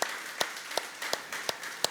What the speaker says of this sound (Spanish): Dale palmas al Rey si lo crees, por favor, apláudele fuerte.